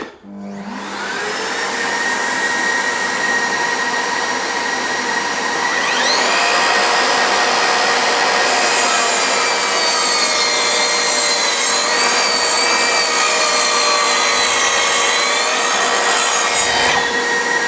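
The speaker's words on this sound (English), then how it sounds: "So I think what I'll do is I'll cut another piece and we'll connect a shop vac to it" An 18V cordless sliding mitre saw cuts through wood with a shop vac hooked up, the vacuum's steady whine running throughout as the blade's loud rising buzz and rasping cut build and continue, close and without speech.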